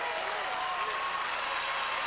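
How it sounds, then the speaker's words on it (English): A loud crowd at a curling championship final claps and cheers steadily, a dense continuous wash of applause without breaks. "And you can hear this crowd respond. They're very, very loud and very much into cheering on their champions."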